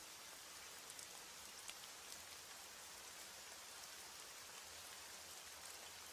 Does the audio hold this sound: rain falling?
yes